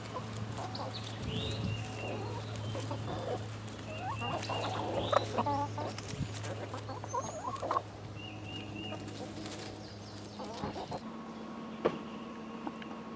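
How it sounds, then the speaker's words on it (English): Backyard chickens cluck softly and scratch while pecking at pulled bean plants, with steady low background hum and occasional rustles and taps. "The chickens are enjoying the beans."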